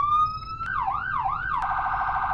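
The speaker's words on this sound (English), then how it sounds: "And it does have sirens." A police car siren in the Roblox Greenville video game gives a steady tone, then switches to a rising and falling wail and then a fast yelp. The sound is loud and clean, with no talk.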